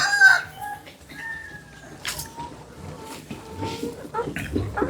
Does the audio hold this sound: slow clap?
no